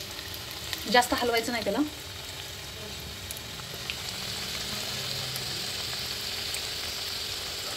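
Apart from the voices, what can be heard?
coriander vadi (kothimbir vadi) frying in pan on low gas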